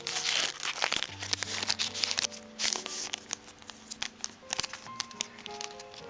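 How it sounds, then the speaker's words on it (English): Scissors snip along the bottom edge of a Pokémon trading card pack, with close, crisp crinkling and tearing of the foil wrapper in irregular bursts over several seconds. "I will be snipping it at the bottom so I can keep the pack right intact"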